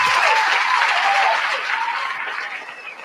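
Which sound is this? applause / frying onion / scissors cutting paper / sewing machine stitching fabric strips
applause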